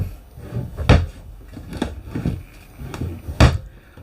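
A cabinet on strut arms in an IBEX 19RBM travel trailer is worked open and shut, giving a series of hollow wooden thumps and knocks at uneven intervals, close and fairly loud.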